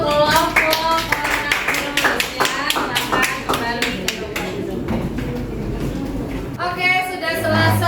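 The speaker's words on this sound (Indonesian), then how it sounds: "Kita beri aplaus untuk kelompok" Classroom applause for a presenting student group during a geography lesson on disaster mitigation, with many hands clapping briskly and unevenly, mixed with voices calling out, fading before a final burst of speech.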